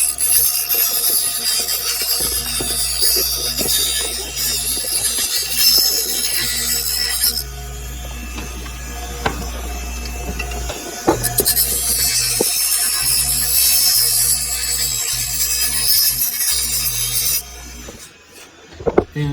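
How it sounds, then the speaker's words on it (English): A small wooden piece is sanded by hand for a napkin holder, in bursts of close, bright, raspy rubbing strokes separated by a quieter pause, with faint handling clicks and no talking. "I'm just sanding this down just a little bit."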